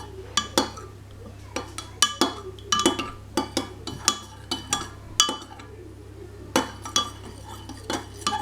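Homemade hand sanitizer being mixed with glycerine and aloe vera in a bowl, a run of sharp utensil clinks and scrapes in irregular bursts, close and fairly loud over a low steady hum.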